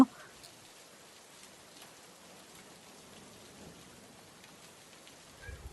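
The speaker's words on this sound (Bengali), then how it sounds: "মনে হচ্ছে বৃষ্টি কমতে শুরু করে দিয়েছে" Rain falls steadily at night, a soft, even patter with no pauses, fairly faint throughout, with a brief louder knock at the start and end.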